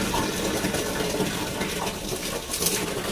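Water running from a supply tap fed by a household tank, a steady close rushing stream filling a vessel with a continuous broadband gush.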